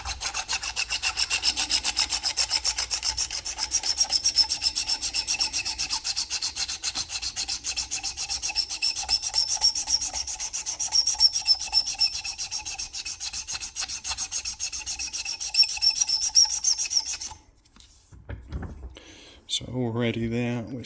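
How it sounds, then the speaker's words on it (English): Steel file rasping back and forth along a custom lock pick blank, rounding its ground edges: fast, even rhythmic strokes, close and continuous, ending abruptly before a brief bit of handling noise. "So I'm just going to go back and forth the length of the pick."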